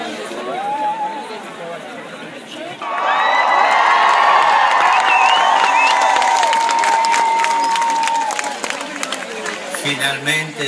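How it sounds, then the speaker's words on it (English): A large crowd at an outdoor papal gathering with Pope Francis breaks into loud, sustained applause and cheering that swells suddenly and holds for several seconds before fading back into general crowd noise and voices. "they all got an applause from the crowd"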